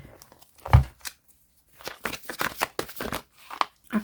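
Tarot cards being shuffled by hand, a few quick riffling and crinkling bursts of paper card stock separated by short pauses, close and fairly soft with no talking over them.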